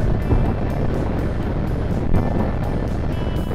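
A Triumph Bobber motorcycle rumbles while being ridden, with a steady, loud engine drone and wind roar, close and continuous, plus a brief thump from a bump.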